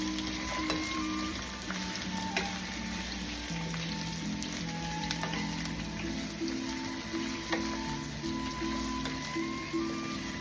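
Beef steak with plenty of onions cooking in a pan, making a faint, even sizzle with scattered tiny pops that run steadily throughout.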